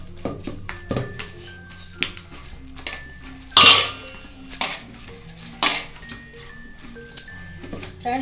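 Gujiya dough is mixed and kneaded with warm water in a bowl, heard as scattered clinks, scrapes and soft knocks against the dish at an irregular pace, close and fairly quiet.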